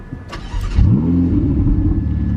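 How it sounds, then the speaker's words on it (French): A Ferrari fitted with a Capristo exhaust starts up: a short starter whir, then the engine catches with a loud bark and settles into a deep, rumbling idle, close and without talk. "Donc pour l'instant démarrage, le frein et le bouton start qui est là."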